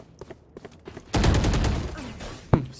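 Gunfire in the tactical shooter game Valorant: a loud, sustained burst of rapid shots followed by a sharp single report near the end, with scattered quieter clicks and talk before it.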